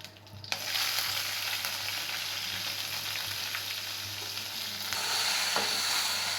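Onions crackle and sizzle loudly in hot tempering oil with cumin, mustard seeds and curry leaves, a continuous dense frying hiss with occasional stirring.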